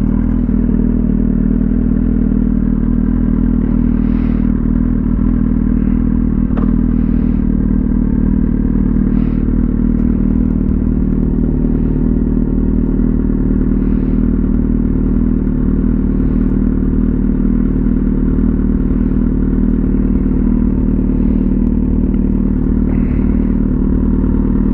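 Kawasaki Z800 motorcycle with a Jeskap exhaust tip on a ride, a loud continuous engine drone mixed with heavy wind buffeting and occasional clattering knocks, with no talk.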